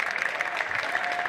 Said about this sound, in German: Ihr dürft gerne klatschen.